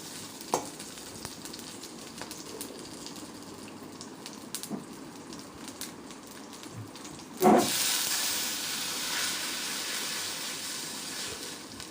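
Cooked dal poured into hot oil with garlic and green chillies bursts into a loud, sustained sizzle partway through, following quieter frying crackle and a few soft stirring knocks.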